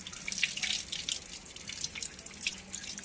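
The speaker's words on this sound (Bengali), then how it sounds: "কিন্তু একটু ল্যার করছে বলে আমি নুন দিয়ে ধুয়ে নিচ্ছি।" Fish being rinsed with salt and water in a kitchen sink, with steady splashing and dripping water close by, continuous for a few seconds with no talk.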